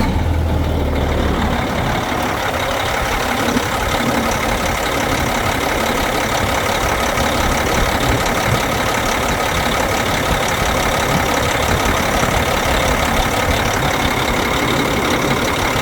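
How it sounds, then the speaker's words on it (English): A truck engine runs after its coolant system is vacuum-filled, starting up and settling into a loud, steady idle rumble that continues evenly throughout. "Turn on the truck."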